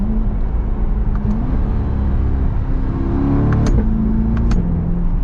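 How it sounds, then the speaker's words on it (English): A Chevrolet C8 Corvette Convertible engine revs and accelerates with a loud, throaty exhaust roar, the pitch climbing then dropping at a gear shift before rising again. "Listen to the exhaust. Listen to the, you know, sounds you get from the transmission with the shifting."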